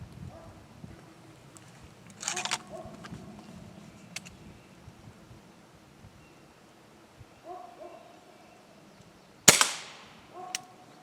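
Pellet rifle shots fired outdoors while target shooting, a few sharp isolated cracks spaced several seconds apart, the loudest near the end with a ringing tail, over quiet ambient background.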